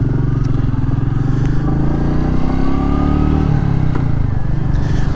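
Royal Enfield Meteor 350 motorcycle engine giving a steady low thrum from a close onboard position, with wind rush and gentle pitch shifts as it rides along, continuous and fairly loud.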